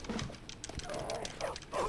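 Dog barking in the video game Bully, a few short yips and whimpery barks spread across a noisy game soundtrack at moderate loudness.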